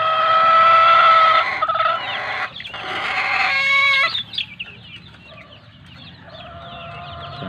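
Several chickens cluck and squawk loudly and close by, with a rooster-like crow breaking in partway through, no talking.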